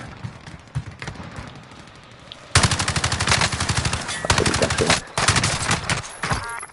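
Rapid automatic gunfire from a first-person shooter video game, a sparse scatter of shots at first, then loud sustained bursts broken by brief pauses.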